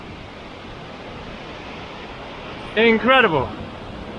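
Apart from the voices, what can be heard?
waterfall in Japan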